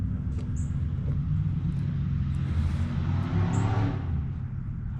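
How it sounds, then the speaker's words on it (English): A lowered truck with a custom exhaust rumbles past nearby, its deep drone swelling toward the middle and then easing off, with a couple of faint bird chirps. "He's got some kind of custom exhaust on it."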